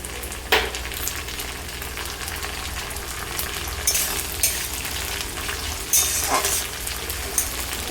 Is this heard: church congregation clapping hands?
no